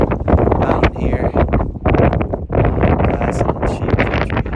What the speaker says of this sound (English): from the top of the windy mountain here